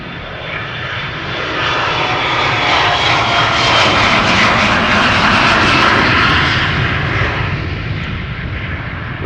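Heavy jet airliner engines at Schiphol Airport, a broad steady roar that swells gently toward the middle and stays loud throughout, with no voices over it.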